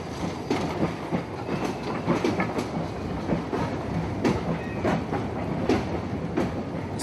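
Historic Meiji-era steam locomotive, once used on the Shimbashi-Yokohama line, running at Meiji-Mura in Japan: a steady rattling rumble of wagons with rhythmic clickety-clack wheel beats, fairly close and continuous, with no talking.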